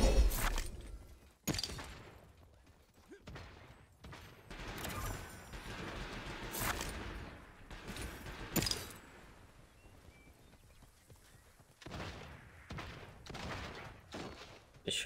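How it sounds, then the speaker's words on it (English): Gunfire and combat clatter in the battle royale game Realm Royale, with bursts of shots, impacts and thuds spread unevenly through a busy game soundscape, no voices. "The shooting coming from up here, I think."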